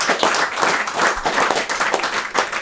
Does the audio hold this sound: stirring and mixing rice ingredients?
no